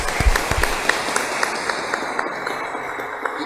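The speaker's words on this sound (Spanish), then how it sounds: "la vamos a recibir con un fuerte aplauso a Laura Zúñiga." Audience applause at an international conference on organized crime welcomes a speaker, with individual claps standing out in a steady, moderately loud patter that thins toward the end.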